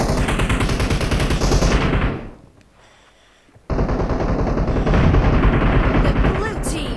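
Rapid automatic gunfire in the PUBG Mobile video game plays loud and continuous, stops briefly for about a second and a half, then resumes as sustained bursts, with a voice speaking over it.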